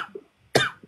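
A single sharp cough bursts out close by, with brief faint sounds before and after it.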